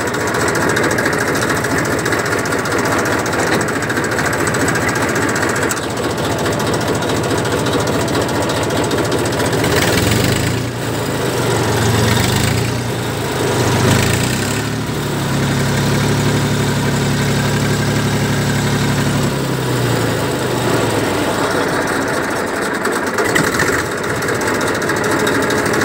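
A 1997 Massey TAFE 30 DI tractor diesel engine idles steadily, a loud, continuous low throb with a faint knocking rhythm that holds unbroken for the whole stretch, close to the listener.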